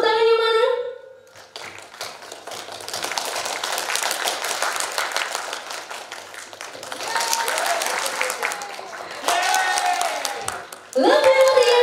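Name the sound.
audience clapping, slowly growing louder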